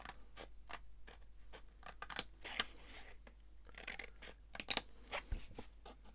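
Scissors cut out a scored indentation in paper while making a mini piano roll box and journal: soft, irregular snips and faint crinkles, close by and fairly quiet, with no voices.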